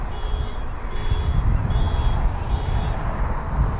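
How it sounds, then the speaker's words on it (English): An older Toyota's car alarm beeps loudly in a steady repeating pattern near London Heathrow airport, several evenly spaced tones over constant background rumble, nearby and prominent. "one loud car alarm"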